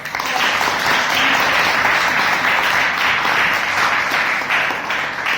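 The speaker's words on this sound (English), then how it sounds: "Please have a big round of applause." Loud, dense round of applause from a Toastmasters meeting audience, continuous close clapping from many hands lasting about five seconds with no talk over it.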